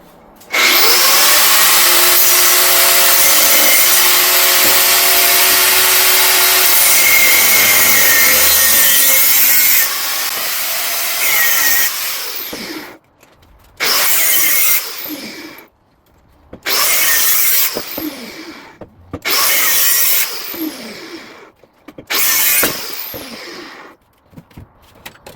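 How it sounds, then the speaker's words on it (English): A grinding wheel cuts through a 2001 Dodge Ram exhaust pipe, first in one long loud continuous whine, then in a series of short bursts separated by pauses, close up. "We're going to use a grinding wheel in this."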